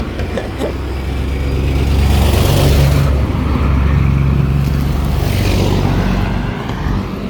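Steady road traffic by a gas station in Tigaon, Camarines Sur, Philippines, with car engines and tyre roar swelling as vehicles pass close by, loudest mid-clip, over a continuous low rumble.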